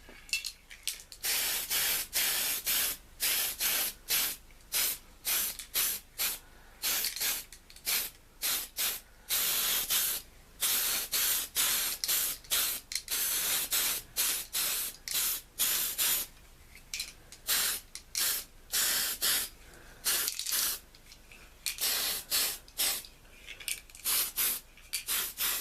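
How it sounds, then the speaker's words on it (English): Spray primer hissing onto Revell F-15E Strike Eagle 1/48 model kit parts in long, loud bursts separated by short pauses, steady and close throughout with no talking. "let's get started with priming these parts"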